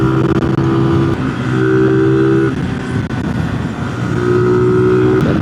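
An Aveta Marvel 150 motorcycle engine revs and accelerates, its loud, close drone stepping up in pitch through several gear changes and then rising again toward the end.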